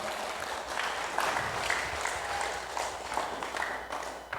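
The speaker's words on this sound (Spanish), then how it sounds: "Fuertes aplausos" A church congregation at a Q'anjob'al Catholic preaching service claps together, a dense, steady wash of applause that holds evenly throughout without a break.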